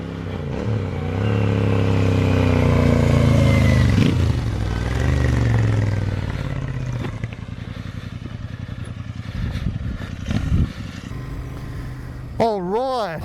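A Royal Enfield Interceptor 650 twin motorcycle rides along, its engine droning and rising through revs up close, while a rider talks over the sound.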